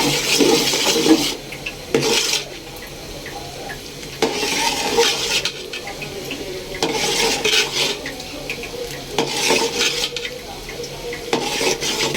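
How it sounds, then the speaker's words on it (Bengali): A spoon stirs and scrapes sugar melting into caramel in a pan for chickpea halwa, in repeated bursts of scraping with faint sizzling in the pauses between strokes. "আমি এখানে কিছু চিনি দিয়ে ক্যারামেল তৈরি করে নিচ্ছি"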